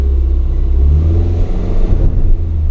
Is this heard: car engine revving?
yes